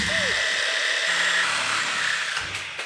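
A cutting tool runs in a garage during suspension work on a 1955 Chevy truck with a broken leaf spring, a steady high whine holding for nearly three seconds before easing off at the end.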